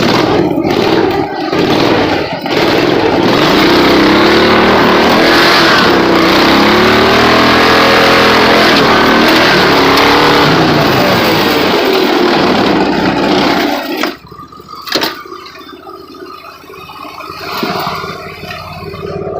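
A vehicle with a sticking clutch roars and revs hard as it ploughs through a mud hole, the loud engine droning steadily for about fourteen seconds before dropping off abruptly into quieter bumps and idle.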